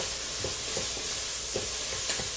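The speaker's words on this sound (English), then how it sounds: "Let me give it a stir." Garlic stirred in a soup pot, a spoon scraping the pot bottom in a few short, soft strokes over a quiet, steady background hiss.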